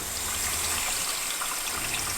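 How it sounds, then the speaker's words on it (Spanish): Water rushes from a motorhome's water pump in a steady, hissing, splashing flow that stays loud and close throughout, with no talking. "La bomba funciona."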